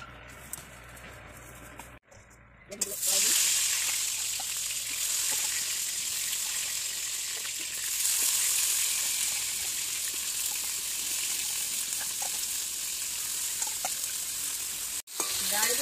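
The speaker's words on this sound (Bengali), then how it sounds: "তেল দিচ্ছি কড়াইতে।" Oil sizzling and frying in a kadai while cooking an eggplant dish, a brief clatter, then a loud, steady hiss of hot frying that carries on close and unbroken, with a short cut near the end.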